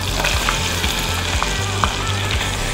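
Garlic sizzles in a stick of melted butter in a shallow pan, a steady close crackle and hiss with small pops scattered throughout.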